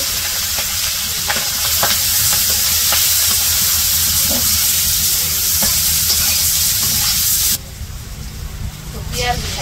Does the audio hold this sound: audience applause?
no